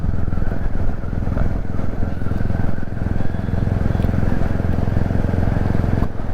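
A Royal Enfield Classic 350 motorcycle engine drones steadily at close range while riding, a continuous rough rumble with wind noise and no pauses.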